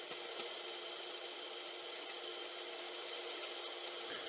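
A bandsaw cuts through a block of 4x4 wood, producing a steady, faint whirring hiss that holds evenly from start to finish with no talk.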